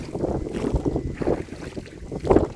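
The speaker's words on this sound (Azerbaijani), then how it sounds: "Küləkli." Gusty wind buffeting a microphone on open water during a pike fishing trip from a small boat, with uneven low rumbling bursts and faint lapping, moderately quiet and with no speech.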